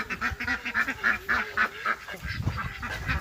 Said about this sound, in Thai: เป็ดไก่